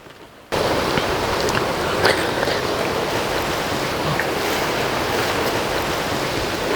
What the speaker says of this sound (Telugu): చల్ల గాలి వేస్తుందండి, విపరీతమైన గాలి